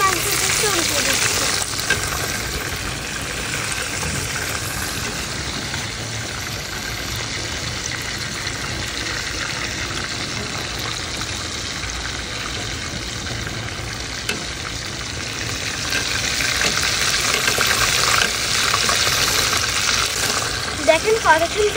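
A chicken burger patty frying in hot oil, a steady broadband sizzle that holds for the whole stretch and swells a little louder toward the end, with faint background noise beneath.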